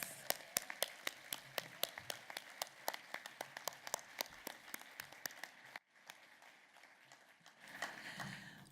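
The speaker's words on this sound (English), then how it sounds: "please give our Chancellor a rousing round" Clapping at a gala honoring the Chancellor: sparse, distinct individual claps ring out first, then give way around the sixth second to a softer, denser wash of applause that swells toward the end.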